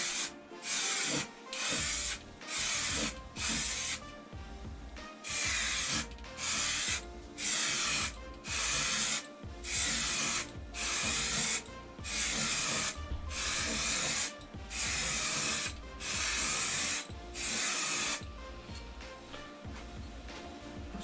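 An aerosol can lays a second coat of paint on a brewery control panel. Repeated hissing bursts of a second or two each come close and loud, separated by short pauses, with no talking.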